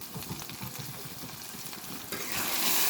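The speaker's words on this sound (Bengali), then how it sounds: "এবার ঢাকনাটা উঠিয়ে আমি একটু নেড়ে চেড়ে দেখব" Meat and potato curry stirred in a pan after the lid is lifted, with steady sizzling and scraping that grows brighter and louder toward the end, close and alone with no talk.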